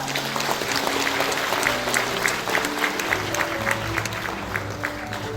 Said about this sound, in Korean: 대동 박수 부탁드립니다